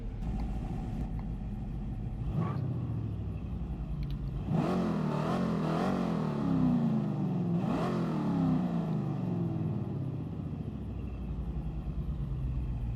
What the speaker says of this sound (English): Underneath the Italian coachwork, the Mangusta was powered by a Ford V8 engine.